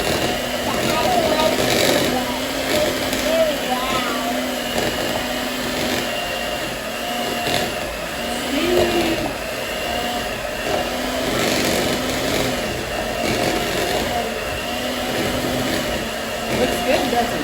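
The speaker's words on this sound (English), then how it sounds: "we're going to mix these 4 ingredients up with our mixer" An electric mixer whirs steadily through breakfast cookie dough, a continuous mid-level motor hum that swells and dips as the beaters work, with someone talking over it.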